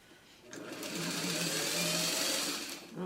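A sewing machine stitches the seams of a Barn Swallows quilt block, a fast whirring run that starts abruptly, holds steady for about two seconds, then slows to a stop.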